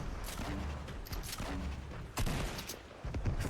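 Shotgun fire in Fortnite from a purple shotgun: two sharp, loud blasts about a second apart over ongoing game noise.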